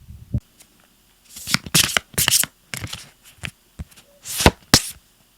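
Tarot cards are shuffled by hand in several quick riffling and sliding bursts of papery flutter, close and crisp, with brief pauses between them.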